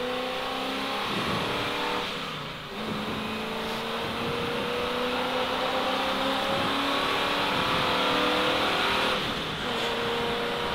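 A 1973 Mach 1 Mustang accelerates around a race track, its engine roaring steadily with rising tones and a brief dip as it shifts, heard continuously from inside amid road and wind noise, with no talk.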